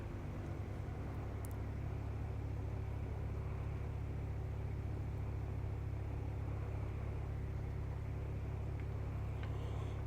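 An aircraft engine throttled back in the Prepar3D v2 flight simulator, a steady, even low drone with constant rumble and no change in pitch, alone with no voices.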